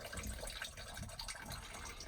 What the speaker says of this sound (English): You can see how much water is just dumping down here, causing all of this flooding.